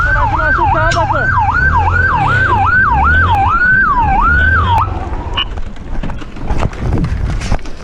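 A police car siren wails close by during a dashcam chase, cycling in a steady rising-and-falling pattern over engine rumble for about five seconds before cutting off, after which road noise and scattered knocks remain.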